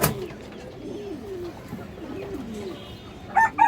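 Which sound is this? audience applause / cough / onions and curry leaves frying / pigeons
pigeons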